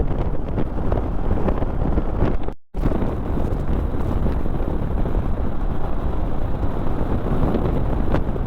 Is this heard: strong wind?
yes